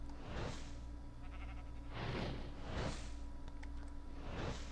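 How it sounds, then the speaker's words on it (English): Sheep bleat in a video game, with four drawn-out cries spaced through the clip over a steady hum of game ambience and no talk. "I'm going to shear that sheep."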